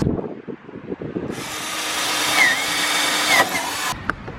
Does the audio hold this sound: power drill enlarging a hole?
yes